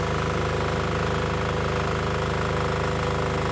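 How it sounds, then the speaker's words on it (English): An engine drives a portable on-site water purification unit running in reverse osmosis mode, giving a steady, loud mechanical drone with rhythmic vibration and no pauses, and no voices over it. "You hear the engine bog down."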